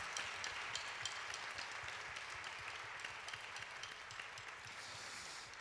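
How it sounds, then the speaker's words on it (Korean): Church congregation applauding to bless a departing short-term overseas mission team at a youth-group sending service; steady, moderately quiet dense clapping that fills the whole stretch without talk. "우리 다시 한번 여기 떠나는 모든 형제 자매들로서 따뜻한 축복의 박수를 한번 좀 보내드립시다."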